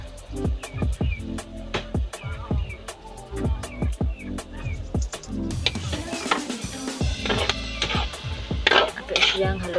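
Chopped string beans and egg stirred in a pan with a utensil, giving repeated metal scrapes and clanks against the pan. Light sizzling sits beneath, and the scraping grows busier and louder toward the end.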